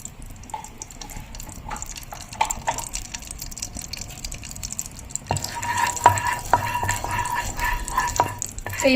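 Ghee heating in a pan on the stove for a ripe banana (pazham) dish, a soft steady sizzle that grows louder and denser partway through, with occasional clinks of a utensil against the pan.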